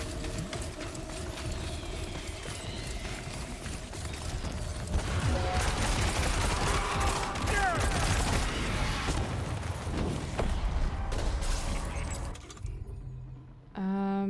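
Gunfire in the video game Death Stranding 2, with dense, continuous bursts of shots and mechanical clatter in the game's soundscape, loud throughout before cutting off near the end.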